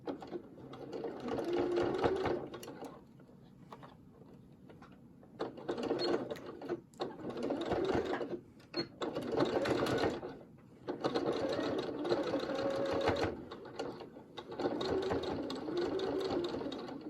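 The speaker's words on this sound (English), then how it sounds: "now you're going to want to make sure to back stitch over top of these" A sewing machine back-stitches the sides of a fabric pocket mask, running in several rapid, rattling bursts of varying length with short pauses between them.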